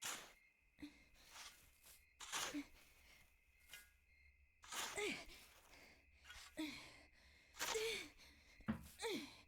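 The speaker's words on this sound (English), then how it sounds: "Jennifer, why are you breathing so loudly?" Jennifer, a character in the video game Rule of Rose, breathes heavily in loud, rhythmic gasps and exhales while digging, close and breathy, with scraping digging sounds between breaths.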